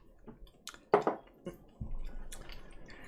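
Water is poured into a glass of Littlemill 29-year-old whisky, giving a few soft splashes and drips followed by a low, steady trickle, quiet and close.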